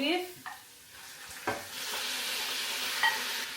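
Onions frying in a pan sizzle in a steady, close hiss, with a few scraping stirs of a spoon breaking through near the start and midway.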